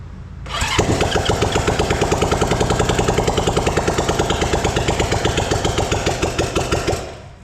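A 1968 Honda CB350 motorcycle engine catches and runs unevenly on one cylinder, a loud, close, lumpy popping idle with a steady pulsing beat that cuts off after about six seconds.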